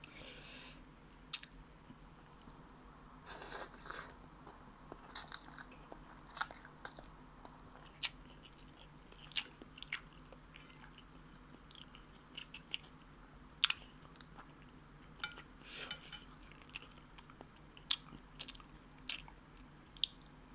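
Crisp biting and crunchy chewing of spicy instant noodle salad with crispy fried pork and pork sausage, close and quiet, with irregular sharp bites scattered over soft steady mastication.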